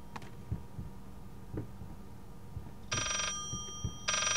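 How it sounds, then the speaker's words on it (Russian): An old telephone rings in the video game Layers of Fear, sounding in two short, bright bursts near the end. Slow, dull heartbeat-like thumps and a low hum run underneath. "Просто звонит этот сраный телефон."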